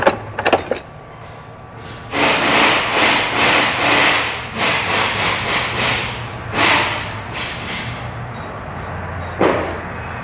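Bolts being tightened on the lower ball joint of a 2008 Ford F150, heard as a run of close, rhythmic ratcheting and rubbing metal strokes with a few sharp knocks at the start and a short burst near the end.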